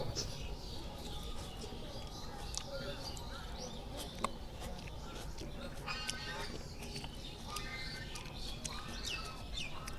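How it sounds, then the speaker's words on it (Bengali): Faint birdsong in a rural village, scattered short chirps and calls rising over a quiet outdoor background, largely under a person's steady talking. "ওই পাখির ডাক"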